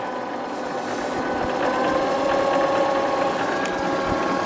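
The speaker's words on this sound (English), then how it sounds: "raising the mower you can hear it now" A steady mechanical whir and hum of an electric tractor motor running continuously while raising the mower, close by, with no voices.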